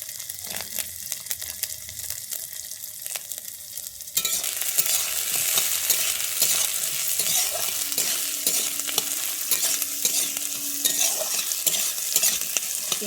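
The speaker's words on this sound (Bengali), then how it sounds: "পেঁয়াজটাকে দিয়ে আমি আরেকটু নেড়ে নেব" Chopped onion is stirred and fried in a pan, giving a loud, steady sizzle with scraping stirs throughout. The frying grows noticeably louder after the first few seconds.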